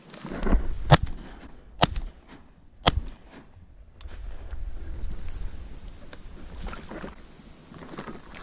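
Shotgun blasts while duck hunting from a boat on open water, three sharp, loud reports spaced about a second apart, followed by a fourth fainter crack amid steady wind rumble.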